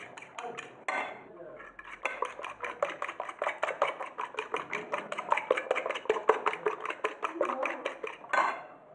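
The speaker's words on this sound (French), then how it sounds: "On va ajouter les œufs, les 3 œufs qu'on va battre en omelette" Three eggs are beaten briskly in a bowl with a utensil for crêpe batter, giving a fast, even run of close clinking strokes against the bowl, with short pauses at the start and end.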